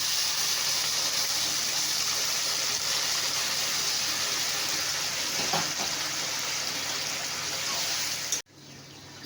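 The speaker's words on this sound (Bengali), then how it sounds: "তো আমার আগে থাকতে গরম জল করা ছিল, আমি সেটাই দিয়ে দেবো" Hot water pours steadily into a pot of chicken curry, a continuous close gush and hiss that runs for several seconds, then cuts off abruptly.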